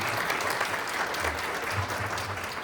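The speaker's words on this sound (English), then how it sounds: "Let's give our sound man a big round of applause for doing the sound this week." Steady applause from a summit audience, dense continuous clapping that fills the whole moment, with a faint low voice murmuring underneath.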